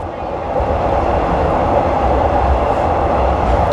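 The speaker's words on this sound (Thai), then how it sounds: "ก่อนที่รถไฟจะเข้าสถานีดอนเมือง" Rapid train 136 from Ubon Ratchathani to Krung Thep Aphiwat, heard from on board as it climbs onto elevated track before Don Mueang station, gives a loud, steady rolling rumble with faint wheel clatter and no talk.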